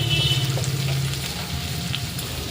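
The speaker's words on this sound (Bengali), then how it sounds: "এইবার অল্প একটু জল দিয়ে ভালো করে মশলা কষাবো।" Ground spices (red chilli, cumin and coriander powder) sizzling in hot oil for a pumpkin curry, a steady close frying hiss with faint stirring, no talk.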